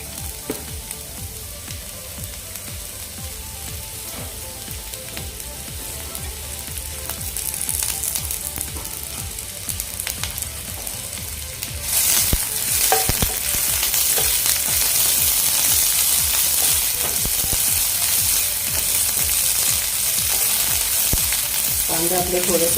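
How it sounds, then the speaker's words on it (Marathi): Sliced onions frying in a spoonful of oil in an iron pan for a Malvani chicken gravy, a steady close sizzle that grows louder and brighter partway through, with occasional stirring scrapes and no talk. "मी इथे लोखंडी पॅनमध्ये एक चमचा तेल घेतलेला आहे त्यामध्ये मी आता पहिल्यांदा कांदा घालते"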